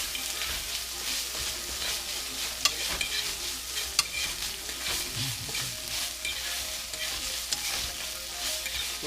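Saltfish sautéing in a pan with thyme and pepper, a steady close sizzle and crackle with scraping stirring strokes and a few sharp utensil clicks against the pan throughout.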